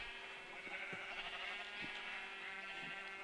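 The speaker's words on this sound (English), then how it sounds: "Why is there a blue sheep dancing over there?" A sheep in the video game Minecraft bleats in a few short, wavering calls over a steady, droning game backdrop. No one speaks.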